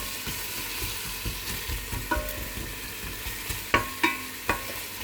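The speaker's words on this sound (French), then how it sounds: "j'ai mis mon huile à chauffer dans ma grosse cocotte, j'y ai versé les oignons, que je fais légèrement" Onions sautéing in hot oil in a large cast-iron cocotte for a pumpkin soup, with a steady soft sizzle and scattered stirring scrapes and a few sharper clinks of a utensil against the pot.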